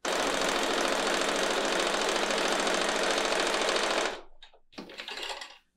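A sewing machine runs fast and steady through fabric strips for about four seconds, a loud close mechanical whir, then stops and gives a couple of short bursts.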